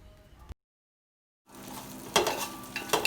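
Mutton frying with onion in a pot for Kolkata-style dum biryani, heard after a second of silence as a steady close sizzle with scraping stirs and a couple of sharp metallic clinks near the end.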